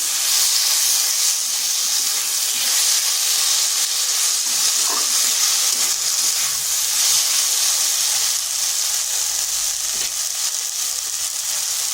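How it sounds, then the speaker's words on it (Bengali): Potatoes frying with onion paste in a pan give a steady, dense sizzling hiss that runs unbroken and close throughout, with no talk. "এরপর আলুর সাথে একটু ভেজে নিচ্ছি, যাতে তার কাঁচা গন্ধটা চলে যায়।"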